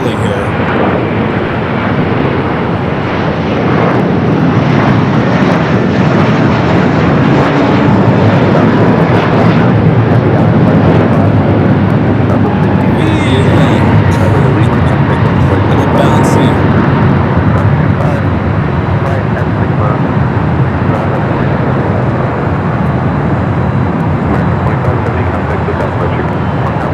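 Airliner on Delta Flight 742 at Los Angeles International Airport, likely an Airbus A330neo, producing a loud, steady engine roar that fills the whole stretch with broad rumbling noise.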